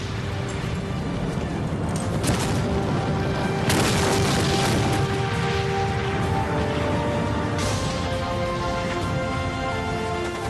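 Real bombs and weapons go off in a loud, continuous roar of blasts and rumbling booms, with sharper bursts standing out, evoking a World War II battle.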